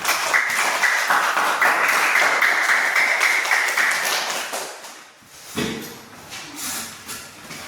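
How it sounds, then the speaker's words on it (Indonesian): A group of people applauds at a school gathering, a dense, steady patter of many hands clapping for several seconds before it thins out and fades into quieter room noise. "Ayo berikan tepuk tangan."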